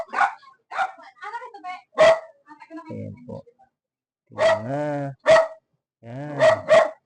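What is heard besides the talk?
dog barking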